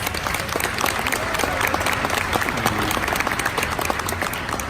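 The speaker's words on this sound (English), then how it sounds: "One last big round of applause." A big round of applause rises from the audience for the event's MC at a board meeting, steady dense clapping that holds at an even, fairly loud level throughout without any speech.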